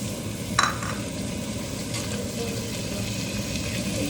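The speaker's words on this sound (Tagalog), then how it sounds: "lagay na natin itong tuna para patuyuin natin yung" Tuna frying in hot oil for sisig in a pan, a steady close sizzle throughout with a brief spoon scrape and stir near the start, no talking.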